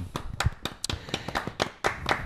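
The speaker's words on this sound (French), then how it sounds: "Merci Clara, on peut l'applaudir bien fort." Scattered clapping from a small studio audience on a French broadcast, about a dozen distinct, fairly close hand claps in an irregular rhythm rather than a dense roar.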